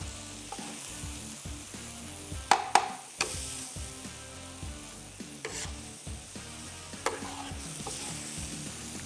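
A spiced mixture is stirred in a hot pan, with close, uneven clanks and scrapes of a spoon against metal over a low sizzle, with no talking.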